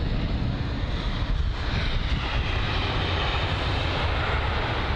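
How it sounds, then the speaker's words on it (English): Qatar Airways Airbus A380 jet climbing after takeoff at Heathrow, a steady, loud broadband engine roar with wind buffeting that holds throughout without a break. "I must say that Qatar A380 did look as if it was struggling to climb, though."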